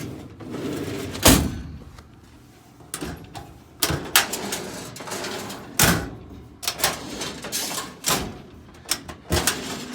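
Drawers being pulled open and rummaged through in a room, with sharp wooden knocks, slides and clunks arriving in irregular bursts and rattling contents shifting between them, close by and with no talking.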